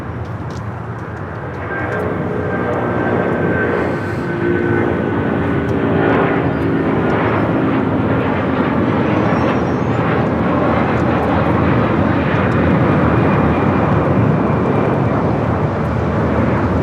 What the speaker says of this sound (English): Cargo 7085 taking off to Felipe Angeles in Mexico City on the A330-300 converted freighter